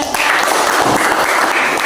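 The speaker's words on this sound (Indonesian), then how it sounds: "Iya, tepuk tangan kepada anak." A classroom of pupils claps for a classmate in a steady, dense burst of applause lasting a couple of seconds, close and loud with no pauses.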